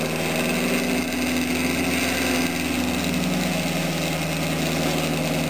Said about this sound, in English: And you give it a spin. It takes a while to spin up.